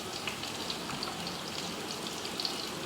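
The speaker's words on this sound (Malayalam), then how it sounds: "ഇതൊന്ന് വഴറ്റി കൊടുക്കും." Ginger, crushed garlic, cumin, green chillies and garam masala sauté in a hot pan with a steady, fine sizzle and crackle that holds even throughout, fairly soft and close.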